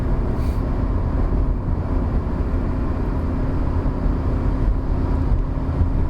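A Proton Saga 2019 car engine pulling steadily up a long mountain hill in third gear, a continuous broadband drone with road and wind noise, even and unbroken with no voices.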